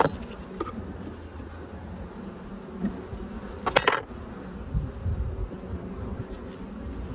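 Honey bees buzz around an open beehive during a hive inspection, a dense steady hum close by, with occasional clinks of equipment and a brief handling noise partway through.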